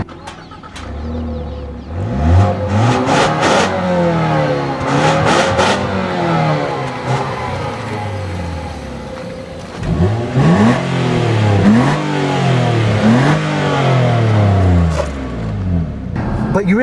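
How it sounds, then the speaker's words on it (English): A 2013 Ford Fusion's 4-cylinder engine accelerating hard through repeated gear changes, with rising revs that drop and climb again, loud and close throughout the run. "this 4-cylinder engine doesn't sound great,"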